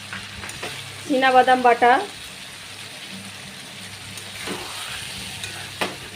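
Ginger and green chili paste fries with potato in a pan, a steady sizzle under stirring scrapes, with a short spoken phrase partway through and a sharp utensil knock near the end.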